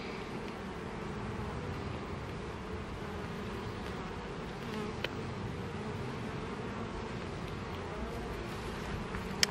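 Honeybees in a hive containing eggs and the queen give off a soft, steady buzzing hum that continues evenly throughout, with a few faint clicks.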